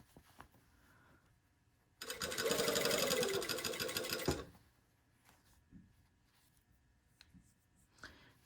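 A sewing machine stitches a shirt sleeve in one steady, loud two-second burst after a quiet pause, then falls silent apart from soft handling noises.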